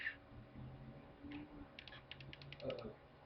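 A computer mouse clicks rapidly in a quick run of small, soft, close clicks, faint against quiet room noise, during a calculus lesson.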